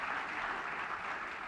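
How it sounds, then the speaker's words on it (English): An audience applauds Dr. Jennifer Eberhardt at a talk on racial bias in the justice system, a dense, steady clapping that fills the whole moment without a break. "Please give her your round of applause."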